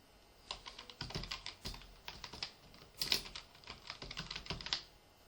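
Computer keyboard being typed on to enter a name, quick irregular clicks and taps in small bursts, close but soft, with no voice.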